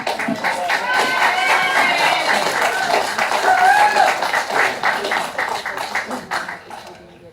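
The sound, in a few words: audience clapping at a council meeting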